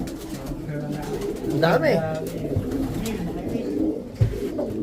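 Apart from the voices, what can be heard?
racing pigeons cooing in a loft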